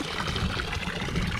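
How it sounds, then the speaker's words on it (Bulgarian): Water runs steadily from a public drinking fountain (чешма) on a street in Asenovgrad, Bulgaria, a continuous close trickle and splash with no talk over it. "Тази чешма с тази вода тук ми изглежда много по-привлекателно."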